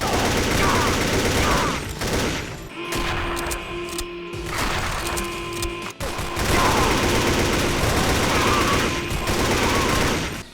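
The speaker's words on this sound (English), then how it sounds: "we mow down so many enemies and blow out our eardrums, with the constant sound of guns shooting" Sustained gunfire in a modded Metro 2033 shooter game, with dense rapid volleys from automatic weapons and booming shots. The firing stays loud and nearly constant, with a brief lull around the middle.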